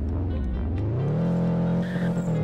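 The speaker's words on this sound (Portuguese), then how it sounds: "Descobri como é que canta pneu, mano." A car in a Roblox racing game revving and squealing its tires, a loud, continuous whine that rises in pitch and holds steady.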